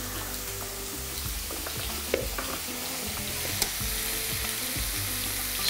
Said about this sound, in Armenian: Քաղցր պղպեղի հետ կառաջարկեմ նաև սխտոր տապակել։